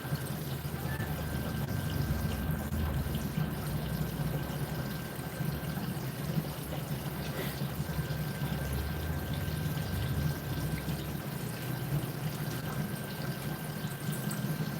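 Liquid streams steadily out of a still rather than dripping, a constant close pouring trickle that runs unbroken under a low background hum, with no talking.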